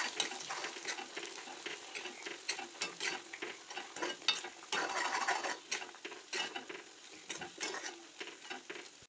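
A spoon scrapes and stirs through thick bubbling jaggery syrup with jujubes in a pot, in repeated rhythmic strokes with a steady simmering hiss beneath.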